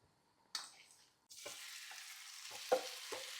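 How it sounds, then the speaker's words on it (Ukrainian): Near-silence breaks into a loud hiss and sizzle as chicken hits a hot pan, steady frying with a few scrapes and stirs. "Я чую, сковорідка вже дуже добре розігрілася, сюди додаю курку."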